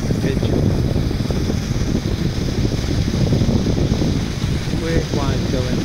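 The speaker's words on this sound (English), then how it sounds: "Weird wind going there." Wind buffets the microphone at Whitehaven marina in Cumbria, a constant loud rumbling gust throughout.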